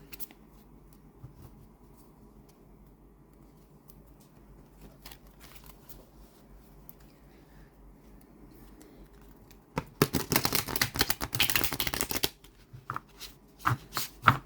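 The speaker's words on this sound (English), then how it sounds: "Okay, let's give these a shuffle." Stiff tarot cards being shuffled by hand, quiet rustling at first, then a dense, crisp burst of card flicking for about two seconds near the end, followed by a few scattered taps.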